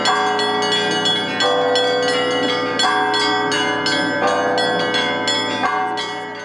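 Church bells peal in a ringing sequence, several bells struck one after another with long overlapping resonance, loud and clear, no voices.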